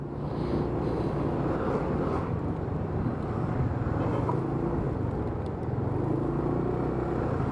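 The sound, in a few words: large trucks driving fast on a road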